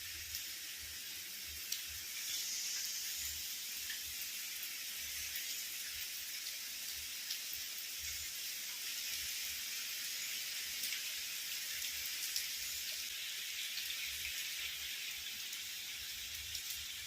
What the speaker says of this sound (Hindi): 2 दिनों से लगातार बारिश हो रही है।